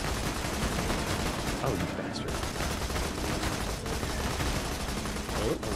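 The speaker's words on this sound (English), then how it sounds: "test out the new machine gun I got here" Rapid machine gun fire from a Borderlands 2 battle against Bullymongs, a dense, continuous clatter of shots filling the scene while someone talks excitedly over it.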